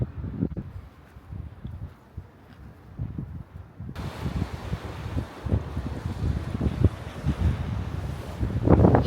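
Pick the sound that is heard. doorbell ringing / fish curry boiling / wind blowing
wind blowing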